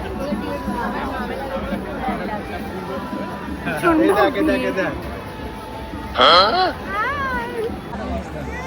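Durga Puja crowd outdoors during Saptami makes a dense, continuous hubbub of many overlapping voices nearby, with louder shouts and calls rising above the babble now and then.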